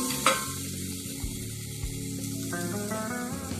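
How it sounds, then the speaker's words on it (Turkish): Tomato paste being stirred briefly in a hot pan for tarhana soup, a soft sizzle with occasional scrapes and clinks under a low steady hiss. "Çok kısa süre bu şekilde çevireceğiz."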